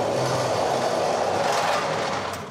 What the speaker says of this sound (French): Donc ça, c'est un transpalette traditionnel qui fait énormément de bruit.